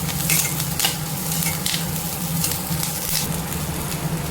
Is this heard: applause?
no